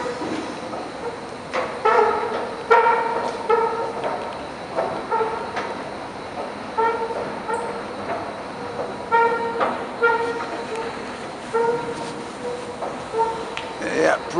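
A CNIM escalator in the Frontenac metro station in Montreal lets out repeated high squeaks and squeals that sound like a seal. The bursts come at irregular intervals over a steady background rumble, with people talking nearby.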